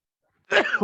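A single short sneeze, brought on by an allergy to a furry dog, bursts out loud and close after a moment of silence.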